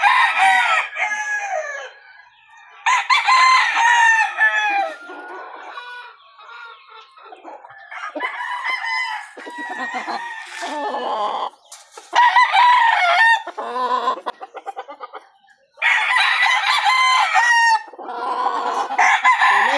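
Sweater gamefowl stags and roosters in a backyard breeding yard crow in repeated loud bursts, with clucking and shorter calls between them, several birds near and farther off, and no talk.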